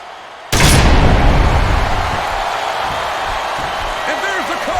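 An FU slam in the Smackdown vs Raw 2007 wrestling video game: a sudden loud booming impact followed by sustained heavy crowd roar, no speech.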